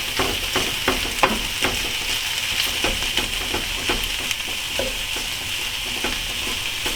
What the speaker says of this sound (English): Just gotta start mixing it in so the chorizo hits the pan and not just the onions.